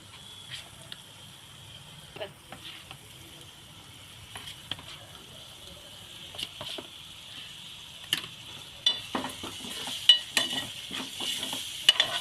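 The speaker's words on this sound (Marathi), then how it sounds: "वाटण तेलामध्ये मसाला आणि तेलामध्ये फ्राय करून घ्यायचं" Ground masala paste frying in oil, heard as a quiet hiss at first that builds in the second half, with scattered scraping and clicking stir strokes growing louder and more frequent.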